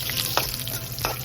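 Cumin seeds and a couple of dried red chillies sizzle steadily in a small amount of hot oil, with a few stirring scrapes over a continuous crackling hiss.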